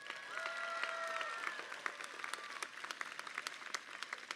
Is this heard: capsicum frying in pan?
no